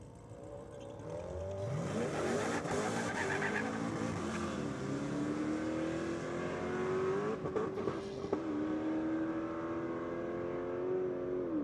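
A VE Commodore race car accelerates hard down the Sydney Dragway strip, its engine note climbing steadily through the gears with a brief tire chirp, loud and aggressive over crowd and track ambience.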